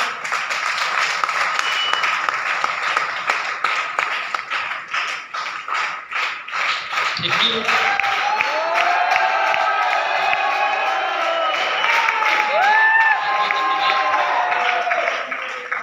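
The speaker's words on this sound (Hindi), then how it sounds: "बहुत धन्यवाद आपकी जोरदार तालियों का" Audience applause and cheering in a hall during a motivational speech at a Safe Shop event, dense rapid clapping throughout with whoops rising later, a brief spoken thanks over it, loud and sustained.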